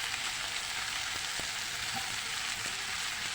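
Onions and peppers fry with chicken in a hot pan for Syrian chicken shawarma, giving a steady close sizzle throughout with a few faint clicks of stirring.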